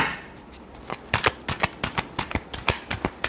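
Tarot cards are shuffled by hand in a quick run of crisp riffling flicks that settle into a rapid, fairly regular rhythm, close and clear, with no voice over them.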